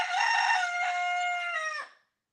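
A rooster crows once in a single sustained, bright cock-a-doodle-doo lasting about two seconds. It is close and clear, then cuts off into silence.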